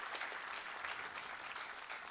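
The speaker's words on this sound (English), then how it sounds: "I request you all to extend a big round of applause to all the IMTR award recipients." Sustained round of applause from an audience honouring IMTR award recipients at a foundation day celebration in a lecture theatre, steady and dense clapping throughout without pause.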